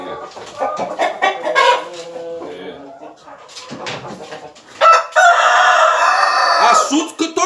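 Fighting roosters crow loudly and repeatedly at close range, mixed with clucking, a dog barking and people talking throughout, with a long sustained crow near the end.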